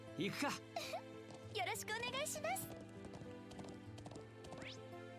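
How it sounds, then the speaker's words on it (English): Horse hooves clip-clop and a horse whinnies amid a busy soundscape in the video game The Legend of Heroes: Trails into Reverie, with someone talking over it. "There's my horse."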